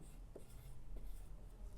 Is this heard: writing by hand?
yes